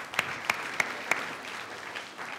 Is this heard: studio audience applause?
yes